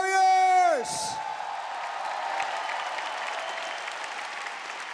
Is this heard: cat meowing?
no